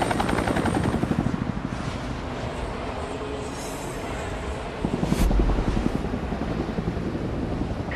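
A steady, close helicopter rotor drone in the video game XIII (2020) on PS5, with a thick rumbling whir, continuous and loud throughout, with a brief swell near the end.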